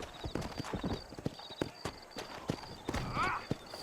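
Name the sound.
horse hooves clip-clopping on trail, Red Dead Redemption video game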